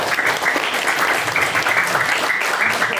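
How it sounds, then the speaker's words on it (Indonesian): A seated religious gathering in Indonesia breaks into audience applause, steady and dense clapping from many hands that carries on for the whole stretch. "Tepuk tangan dulu semuanya."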